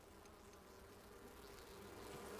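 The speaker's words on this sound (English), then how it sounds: "I definitely hear the bees" Bees buzz in the game Enshrouded, a faint, continuous droning hum that stays steady throughout with nothing else on top.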